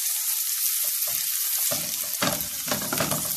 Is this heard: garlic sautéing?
yes